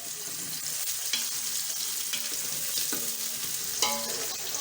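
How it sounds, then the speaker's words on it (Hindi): Chopped onions frying in hot oil, giving a steady, close sizzle with occasional stirring scrapes throughout, and no voices. "ये देखिए, आपके सामने मैंने ऑयल में प्याज डाली थी।"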